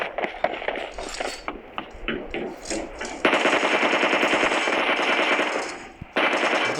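Rapid machine gun bursts ring out in a video game, sharp clattering fire in short volleys, then a long sustained stream of shots near the end, loud and close, with no voices.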